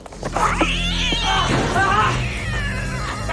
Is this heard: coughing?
no